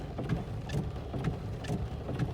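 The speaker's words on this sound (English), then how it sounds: "And it is raining." Steady rain falls on a rainy day, heard from inside a Mac, as a continuous dense patter with soft low rumbling throughout, fairly even in loudness.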